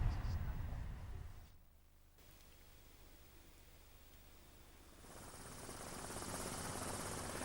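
A steady helicopter drone with a broad whooshing rotor wash, dipping briefly and then swelling louder near the end, with no voices heard.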